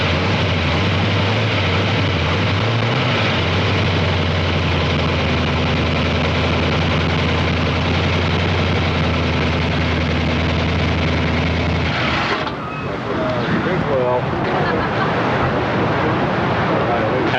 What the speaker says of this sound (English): maybe we ought to hear you start it up and listen to that engine purr